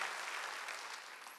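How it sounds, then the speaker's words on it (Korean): A church congregation applauding at a Wednesday worship service, a dense burst of many hands clapping that fades slightly toward the end. "박수 치라"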